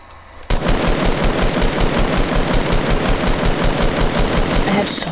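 Rapid automatic gunfire in the video game Fortnite, a loud, sustained burst of closely spaced shots that starts abruptly and runs nearly five seconds without pause.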